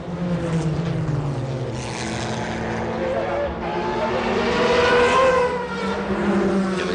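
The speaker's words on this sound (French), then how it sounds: "Nous sommes à bord de la 911 GT1 de Stuck, Boutsen et Volek, toujours à la poursuite des deux TWR Yost" Porsche 911 GT1 race car engine recorded onboard at Le Mans 1996, a steady loud droning roar with shifting pitch through the whole stretch, heavily mixed under continuous commentary.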